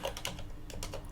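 Quick keystrokes clatter on a computer keyboard, several close taps in a short burst with a brief pause between groups.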